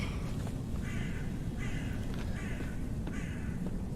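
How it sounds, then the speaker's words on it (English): Crows in the video game Hide or Die caw harshly after being disturbed, giving about four evenly spaced calls over a steady low rumble of ambient noise. "crows being disturbed"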